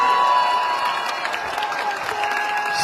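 Audience applause at a Gabonese civil society political gathering, a steady wash of clapping from a crowd with some cheering mixed in, filling the whole short span at an even level.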